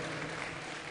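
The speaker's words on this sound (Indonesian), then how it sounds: "tepuk tangan buat Bang Am Sapulete, Harun Sulkam" Audience applause at a Demokrat party leadership announcement fills a brief moment as a steady, dense wash of clapping.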